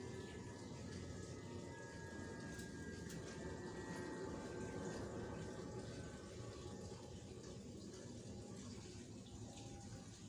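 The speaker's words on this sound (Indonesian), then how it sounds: "Sekarang kita buang airnya." Water is poured off a settled mix of cricket eggs and fine sand in a container, a steady continuous rushing pour that runs evenly throughout, close and moderately loud with no talking.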